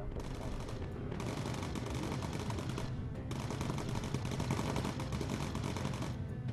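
Machine gun fire from a bomber's gun turret in the video game Bomber Crew: loud, rapid sustained bursts with brief pauses between them, dense and close, with no voices over it.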